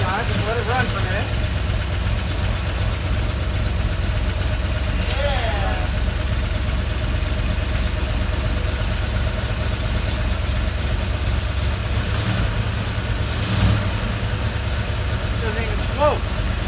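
An early Ford Bronco, started for the first time in 26 years, idles steadily and evenly under a low, continuous engine rumble. People talk briefly now and then over it.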